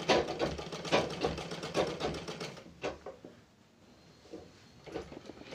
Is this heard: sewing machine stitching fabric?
yes